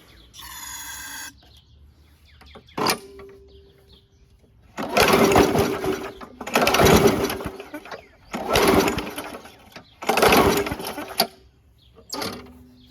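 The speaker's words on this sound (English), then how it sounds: "It's puffing, but it is really hard to pull over." A free curb-find WeedEater 21-inch push mower is pull-started again and again; its stiff engine puffs through four loud, close cranking bursts, each a second or so long, with shorter rasps and quiet gaps in between.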